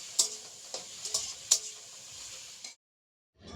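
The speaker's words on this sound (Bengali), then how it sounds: "এই যে আলু ভাজা বসিয়ে দিয়েছি" Potatoes fry in a pan with a steady soft sizzle, broken by a few sharp spatula clicks, before everything cuts to silence.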